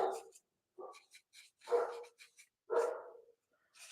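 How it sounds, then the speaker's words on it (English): A dog named Charlie barks in several separate bursts with short pauses between them. The barks are fairly close and moderate in loudness, and there is no talking. "Charlie is barking"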